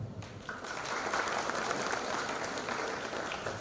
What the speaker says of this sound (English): please join me in applauding the lifetime achievements of Professor Chaitanya Moy Ganguly